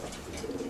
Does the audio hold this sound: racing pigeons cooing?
yes